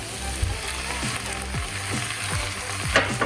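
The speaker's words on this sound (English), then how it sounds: "And we're going to mix it and let it cook for another 2 minutes." Vegetable pie filling cooks in a pan, a loud steady sizzle under repeated rhythmic scraping strokes of a spoon stirring it, with a low hum beneath and no voices.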